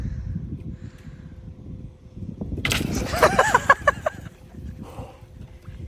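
Ice cracking and breaking under a person's weight, a sudden crunchy snap followed by a short series of splintering cracks, close and loud against faint outdoor background.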